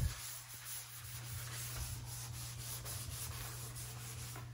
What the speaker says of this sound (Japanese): スポンジで洗います。